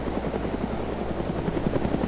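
A helicopter flying in the video game DayZ, its rotor producing a steady rapid chopping pulse over a constant engine whine, even and moderately loud across the whole stretch with no voices.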